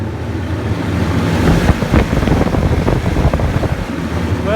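Shed ventilation fan running at high speed in a winter shed, a steady loud broadband rush with a low rumble and fluttering gusts, alone and unbroken.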